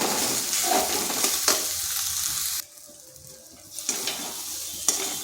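Potato and chhana dough being stirred in a pan over medium heat, with a soft scraping and light sizzle that runs steadily, drops away briefly in the middle, then comes back.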